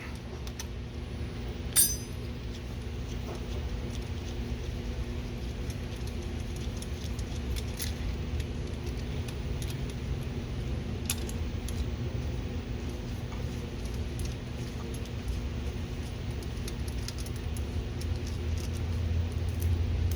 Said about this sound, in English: Take a 10mm wrench. Remove the 3 hex bolts from the top.